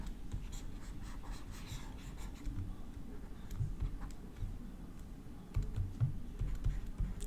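Writing out the domain of a rational function for an algebra lesson, with a steady scratch of pen or marker strokes and small taps running continuously at close range, no talk.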